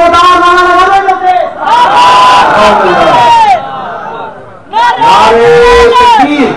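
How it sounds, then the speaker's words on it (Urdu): Large religious gathering in which a crowd shouts a loud slogan in unison, two long roaring bursts of massed voices with a short lull between them. "اب تو زوردار نعرہ لگا دیں لوگ"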